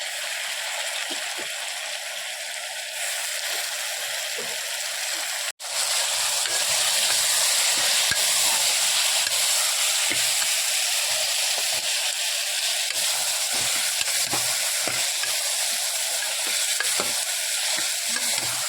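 Tomatoes frying in a pan for a potato-tomato curry, a steady loud sizzle with the scrape and clack of a spoon stirring throughout; a brief cut interrupts it once near the start.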